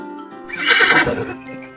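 A horse whinnies in a sharp, bright neigh that rises and trails off, with faint hoof clatter beneath, standing in as a sound effect for the Buraq, a white horse-like steed; close and alone.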